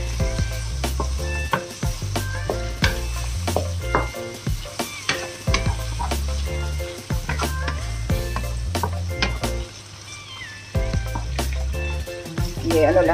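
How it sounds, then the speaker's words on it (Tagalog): Precooked smoked duck with onion reheats in a pan, sizzling steadily and loudly up close, broken by frequent sharp scrapes and clacks of a utensil stirring the meat. "Ininit ko lang yung smoked duck natin, guys. Pero luto na to siya. Pero initin ko lang."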